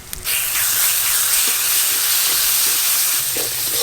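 Water poured into hot ground spice paste with turmeric and salt in a frying pan, giving a loud, steady hiss and sizzle that starts abruptly and holds for several seconds with no voices.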